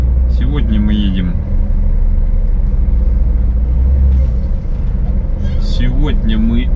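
A truck towing a trailer rumbles along a bumpy road in a steady, loud low drone from inside the cab, with someone talking briefly over the engine at the start and end.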